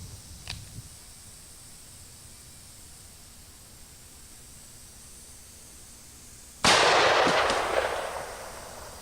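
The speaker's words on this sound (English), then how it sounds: "we are shooting, yes, of course, Corbon ammunition, the best there is" One faint shot, then a single loud gunshot from a handgun firing Corbon ammunition at targets at an outdoor range, its blast decaying over a few seconds with no talk.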